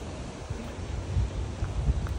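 Sea waves wash against the coast at Kamakura, Japan, as a steady broadband roar with low rumbling surges swelling and fading, close and fairly loud, with no talking.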